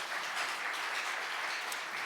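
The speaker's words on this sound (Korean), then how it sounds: "영광의 박수 한번 다시 올려요" A church congregation applauds at a gathering, a brief, even wash of many hands clapping at moderate distance.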